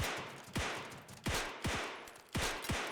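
Gunfire bursts from the bullet-hell video game Furball Blitz, four sharp repeated volleys at roughly even intervals, each with a hard attack and quick decay, loud and close with no talk over them.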